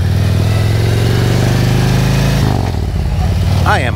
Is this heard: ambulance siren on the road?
no